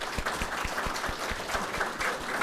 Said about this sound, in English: Let's give a warm applause to our speakers and guests